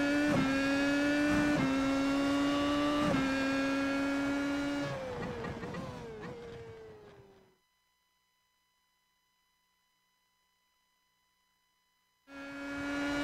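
Race car lapping Circuit de Spa-Francorchamps in the iRacing game, engine note rising through several gear shifts, then fading into a near-silent gap with a thin steady tone before the engine sound cuts back in.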